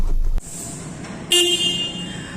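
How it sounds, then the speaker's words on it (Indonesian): A petrol Toyota Corolla Cross sounds one short, close car-horn honk. "kelas Corolla biasanya udah menggunakan klakson keong, dia masih klaksonnya ya"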